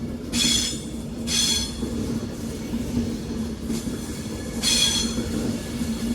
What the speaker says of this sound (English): You always get some good flange sound when these leave.